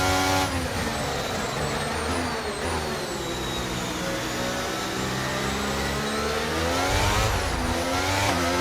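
A Formula 1 car engine from the F1 23 racing game screams continuously at high revs in heavy rain, with steady loud whine and shifting pitch, no talking.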